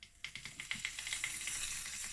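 Butter sizzles in a hot frying pan, a steady close hiss with a few sharp crackles and spits at the start.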